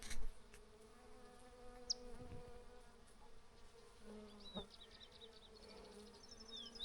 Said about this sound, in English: Whatever it is, the bees are here in force.